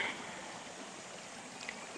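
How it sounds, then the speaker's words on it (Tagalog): A hidden river in Pantihan 3, Maragondon, Cavite, with clear water flowing over broad rocks, gives a steady, soft rushing wash with no voices. "Isang tagong ilog."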